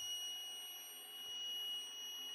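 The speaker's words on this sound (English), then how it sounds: "It's going to keep beeping until we get to full extension of the arms." A gate opener's entrapment alarm buzzer sounds with a steady, high-pitched electronic tone, continuous and fairly faint throughout, with no talking.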